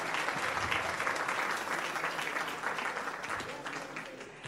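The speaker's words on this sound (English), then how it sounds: "Let's give her a round of applause." Warm audience applause for a student named Girl Ambassador at a Palm Beach County community recognition event, a dense, steady clapping that fades slightly toward the end.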